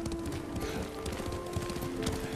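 Horse hooves clopping at a steady riding pace in the video game Ghost of Tsushima, continuous and moderately close under an ambient wash with a low tonal drone.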